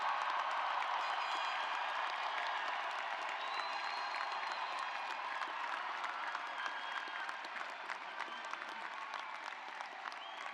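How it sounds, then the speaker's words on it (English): Graduates at a 2014 graduate and professional commencement break into dense, sustained applause and cheering from a large crowd, a steady wash of clapping that holds without a break. "Now you can cheer."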